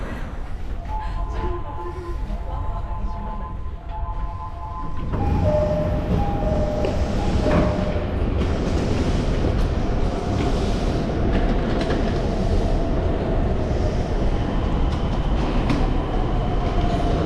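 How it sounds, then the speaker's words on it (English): JR train ride from Tokyo to Narita Airport, with the steady rumble and rattle of the railcar rolling along the track, growing louder after a few seconds and continuing as a dense, close, unbroken roar. "A long but smooth trip by JR train from Tokyo will bring you directly to this faraway airport."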